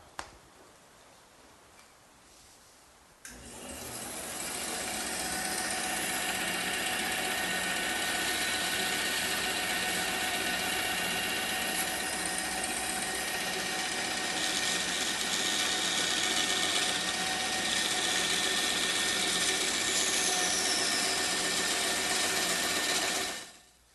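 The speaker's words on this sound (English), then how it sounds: "the first thing I'm going to do is cut these pieces on the bandsaw" A bandsaw starts up and runs with a steady loud whine and hum, the blade cutting oak continuously for about twenty seconds before cutting off.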